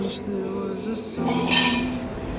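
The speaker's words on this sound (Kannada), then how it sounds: "ನಾನೊಂದು ಪಾತ್ರೆಗೆ ಸರ್ವ್ ಮಾಡ್ತಾ ಇದ್ದೀನಿ" Metal utensils clink and scrape against a vessel as freshly made rasam is served, a few sharp, close ringing knocks spread over a couple of seconds.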